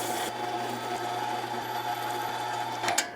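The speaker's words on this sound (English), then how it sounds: "through the meat grinder we go" A meat grinder pushes cold Texas sausage meat through a coarse die, giving a steady close mechanical whir and grinding drone that runs unbroken for a few seconds with no talk.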